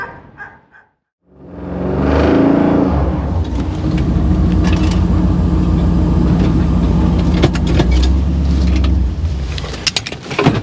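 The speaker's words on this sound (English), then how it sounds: "I'll do a couple more passes down the drive" 1957 Chevrolet with a snow plow starts up after a short quiet gap, then a loud close engine rumble holds steady with a few clanks and bumps from the plow down a driveway.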